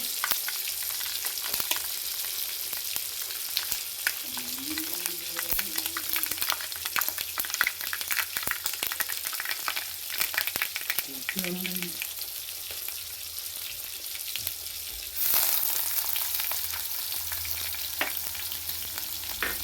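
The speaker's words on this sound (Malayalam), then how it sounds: "ഒരടപ്പത്ത് മീൻ പൊരിക്കാനിട്ടേക്കാണ്" Steady oily sizzling and crackling of fish frying in a pan, continuous and close, with a few faint clinks and brief stirring sounds.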